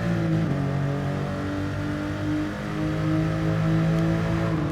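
A Porsche 993 engine in GT Sport revs hard and accelerates at Tsukuba, with a sustained, loud engine note whose pitch steps through gear changes while chasing another car in the slipstream.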